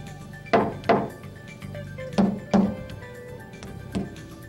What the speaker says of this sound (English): Listen as we compare the sound-deadening qualities of Homosote, Cork, and Woodland Scenics track bed laid on plywood.